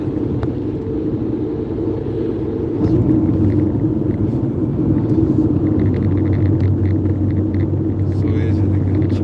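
Car driving on the road, a continuous low rumble of engine and tire noise heard from inside the cabin, growing slightly louder partway through, with someone talking over it.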